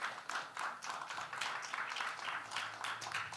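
Congregation at a church gathering clapping together, a dense, bright burst of applause with pulsing swells, moderately near and continuous without pause.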